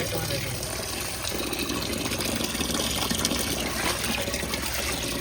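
Running water over saag greens being washed by hand for a Punjabi saag dish, a steady close splashing and pouring wash that continues throughout.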